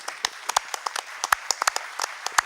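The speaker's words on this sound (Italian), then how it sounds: "Accogliamolo con un applauso" A handful of people clap sparsely to welcome an architect onto a stage, a thin, irregular patter of individual claps at moderate distance, quiet and without voices.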